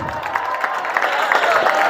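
A school crowd claps and cheers for Firman, a class 7G student, at an Islamic talk, with dense steady applause and scattered shouts close by for about two seconds.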